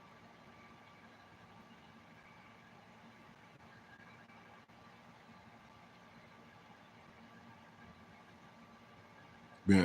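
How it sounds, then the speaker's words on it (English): A car engine idles steadily with a low, even hum and a faint hiss throughout, unchanging until a brief louder bump at the very end. "Been idling for an hour and ain't even at 10 volts."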